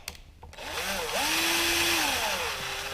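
An electric drill whirs up to speed and grinds steadily, its motor pitch sliding up and down as it bites, loud and close, boring out a transmission seal bore on a John Deere 318 tractor, the drill bit working loose.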